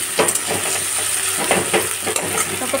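Chopped onions and other minced ingredients frying in hot oil in a pan, a loud continuous sizzle broken by repeated scraping stirs of a spatula.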